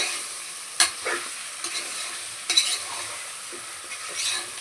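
Chicken sautéing in oil in a pot for kuska, a soft continuous sizzle broken by several sharp scrapes and stirs of a spoon against the pan, close and clear with no talking.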